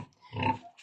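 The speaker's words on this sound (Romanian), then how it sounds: "avem un porc" A pig on a small farm gives a single short grunt, close and moderately loud, under a second long.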